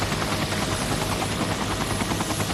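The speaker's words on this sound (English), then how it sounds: "We stood there until a helicopter was out of sight" A Care Flight medical rescue helicopter flies away, its rotor and engine making a loud, steady thrumming roar that stays constant throughout, with no voices.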